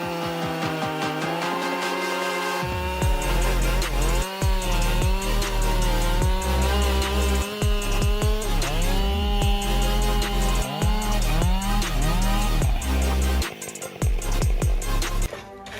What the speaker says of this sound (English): the Husqvarna 572 chainsaw can handle giant logs in a short time